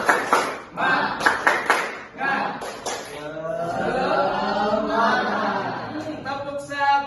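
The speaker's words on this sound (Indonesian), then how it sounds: "Yuk, tepuk semangat." A class of schoolchildren claps together in a short rhythmic pattern of separate claps, then shifts into loud group chanting and cheering with voices filling the room, a few claps returning at the end.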